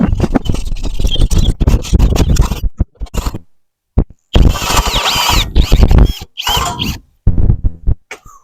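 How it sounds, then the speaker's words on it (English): A power drill bores holes for body mounts in a new rear cross member of a rusty Jeep TJ, loud, close, gritty whirring in long bursts broken by abrupt stops and brief silences. "I just drilled out the holes for the body mounts to fit in"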